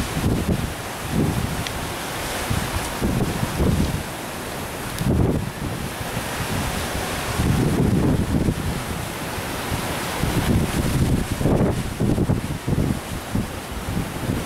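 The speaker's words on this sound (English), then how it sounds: "that Mini Winnie shakes in this gusting wind" Strong gusting wind during a wind storm in Laughlin, Nevada, beside a small motorhome, roars as a continuous loud rush with heavy buffeting bursts and rumbling surges rising and falling throughout.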